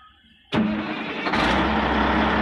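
A bulldozer engine cranks, then catches abruptly and settles into a loud, steady rumbling idle that grows slightly fuller, close by with no talking.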